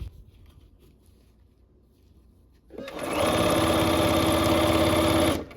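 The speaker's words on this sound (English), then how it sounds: "we're gonna go ahead and start sewing kind of where that other seam starts" A sewing machine starts stitching a seam after a quiet pause, its fast, steady mechanical whir running loud and close for about three seconds before stopping, with no voices.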